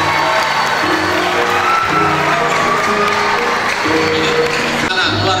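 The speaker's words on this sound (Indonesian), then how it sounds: "Tepuk tangan buat kalian." Students of SMP 2 Cilongok receive applause at a school book launch, a steady wash of clapping and crowd noise with some cheering, lasting throughout with voices mixed in.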